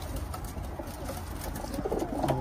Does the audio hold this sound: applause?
no